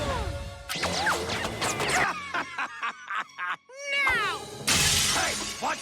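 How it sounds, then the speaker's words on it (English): Mirrors smash in a maze of mirrors inside a cartoon tourist shack: bursts of shattering glass with tinkling shards, broken up by short choppy sound effects and cartoonish vocal squeaks, loud and close. "Gideon smashes the mirrors in the maze of mirrors in the mystery shack"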